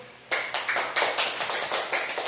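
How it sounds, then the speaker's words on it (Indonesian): A classroom group applauds students of group 1 after their discussion: a burst of clapping starts abruptly and carries on in quick, uneven patters, fairly close and moderately loud with no talk over it. "Beri tepuk tangan dulu"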